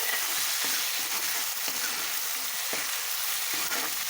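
Tomatoes fry for a curry in a hot pan, giving a steady close sizzle broken by soft, regular stirring scrapes, with nobody speaking.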